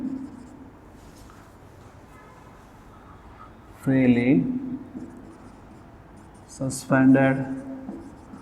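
Marker or chalk scratching across a board during a physics lecture, faint tapping strokes beneath a voice that speaks in two louder bursts.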